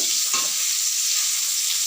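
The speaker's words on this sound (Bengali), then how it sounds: "পটলগুলোকে মিনিট পাঁচের ধরে ভেজে নেব পটলের একটা পিঠ আমার ভাজা হয়ে গেছে" Slices of pointed gourd (potol) frying in a pan give a loud, dense, continuous sizzle with a soft stir partway through, heard alone without speech.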